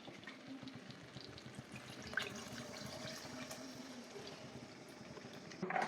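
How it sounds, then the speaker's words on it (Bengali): Water poured into a pan of mushroom and pea curry, a steady splashing pour running throughout and rising near the end, close by with no talk. "এরপর পরিমাণ মতো জল দিয়ে আমি এটা ফুটতে দেব 5 মিনিটের মতো।"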